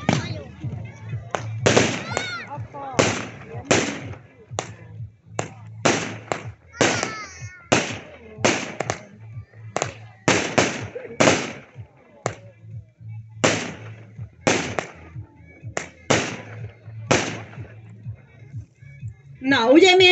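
Stalingrad, a small nine-shot consumer firework cake, firing in Hungary, a string of sharp loud bursts in an uneven rhythm with crackling tails, while someone talks over the shots.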